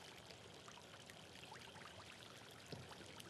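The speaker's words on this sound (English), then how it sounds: "If you hear the water" Water runs in a luxury house as a faint, continuous pouring rush, steady and distant with no other clear sounds.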